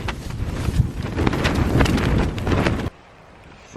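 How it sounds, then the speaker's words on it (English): Gusty wind buffets the outside of a parked camper van, a loud continuous roar with rumbling microphone noise for nearly three seconds before cutting to near quiet, then rising again at the end. "It's a bit windy outside."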